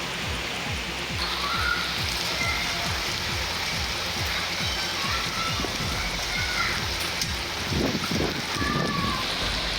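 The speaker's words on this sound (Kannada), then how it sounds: "ತಾಲೂಕಿನಲ್ಲಿ ಧಾರಾಕಾರ ಮಳೆಯಾಗಿದೆ" Heavy downpour in a Karnataka taluk, a steady broadband rush of rain falling on surfaces, loud and continuous throughout with a few louder splashing bursts near the end.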